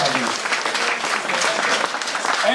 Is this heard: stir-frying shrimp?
no